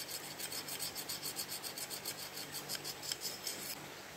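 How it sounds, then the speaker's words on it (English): Secateurs being sharpened with a flat steel, a quick run of rhythmic rasping strokes, bright and scratchy, repeating steadily for about three and a half seconds at close range with no talk. "For the secateurs, because it's such a tight angle, you wouldn't really get a stone in there, so I just use this flat steel."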